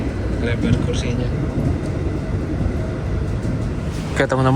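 Gumarang passenger train pulling into Bekasi station at night: a steady, heavy rumble of rolling carriages with a brief tonal horn-like burst near the end, and indistinct voices mixed in.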